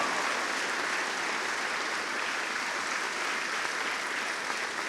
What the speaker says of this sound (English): How about another round of applause for this band and our middle school band?